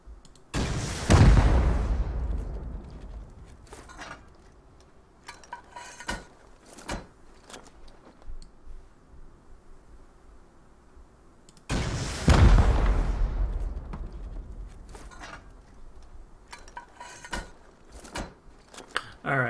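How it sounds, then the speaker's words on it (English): Two heavy rocket explosions against a stone wall in the survival game Rust, each a loud booming blast with a long rumbling decay, spaced about eleven seconds apart, with faint clicks and movement sounds between them. "it usually takes 4 rockets to get through the wall, through stone wall, right?"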